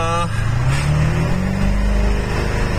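A car driving up nearby, its engine note rising and humming loudly and steadily throughout, with people talking over it.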